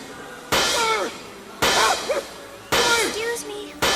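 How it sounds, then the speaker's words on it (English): A toy monkey's cymbals clashing down on the Grinch's head in a Christmas film scene: three sharp, loud metallic crashes with ringing tails, spaced about a second apart, amid clattering noise. "walking in on the Grinch, getting his head smashed in by a monkey playing the cymbals."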